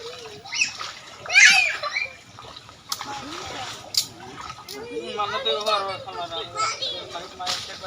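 Fish jump and thrash in a large net hauled from a big pond, giving bursts of sharp splashes and sloshing water amid excited voices nearby.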